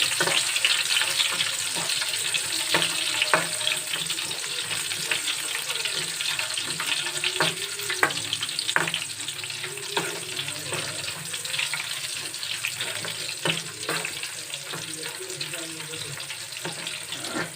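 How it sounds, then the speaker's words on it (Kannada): Mustard seeds, cumin, curry leaves and dried chillies frying in hot oil for dhaba-style dal tadka: a dense, continuous hiss and sizzle with scattered sharp crackles and pops, fairly loud and steady, without speech. "ಎಣ್ಣೆ ಬಿಸಿ ಆದಮೇಲೆ ಸಾಸಿವೆ ಮತ್ತು ಜೀರಿಗೆ ಅರ್ಧ ಅರ್ಧ ಟೀ ಸ್ಪೂನಷ್ಟು ಹಾಕೊತಾ ಇದ್ದೀನಿ"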